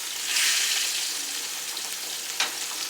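Butter sizzles steadily in a hot pot while seared salmon is being cooked, a bright, continuous frying hiss close by with a brief sharper crackle near the end.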